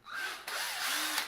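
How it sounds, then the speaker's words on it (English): A power drill with a 1/8 inch bit bores into a metal C-clamp, a close whining spin that shifts pitch as the bit bites and slows, lasting just over a second with no speech. "a drill with an 1/8 inch bit"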